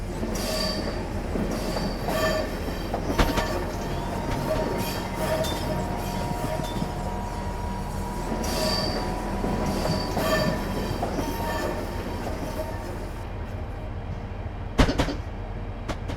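A train runs steadily along the track on the London St Pancras to Faversham route in Train Simulator 2015, with a continuous loud rumble, clicking wheel-on-rail beats and occasional squeals and knocks, without any talking.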